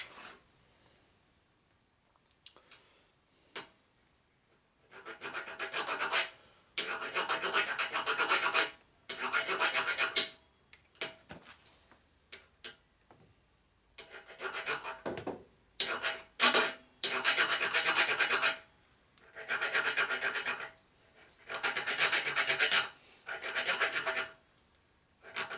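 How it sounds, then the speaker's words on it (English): A hand file rasps around worn threads on a 1941–72 Harley WL clutch cable part, in long loud bursts of scraping strokes separated by short pauses and lighter taps. "Keeping the file engaged as I'm rotating, trying to make it cut around the whole surface, 360 all the way around."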